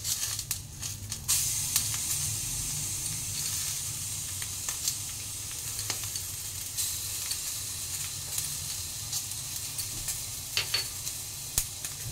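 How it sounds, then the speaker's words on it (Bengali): Garlic paste sizzles in a pan of fried vegetables, including peas, for a vetki khichudi, giving a steady hiss with occasional sharp crackles and clicks of stirring throughout. "আমি এবার রসুন বাটাটা এতে দিয়ে দেবো।"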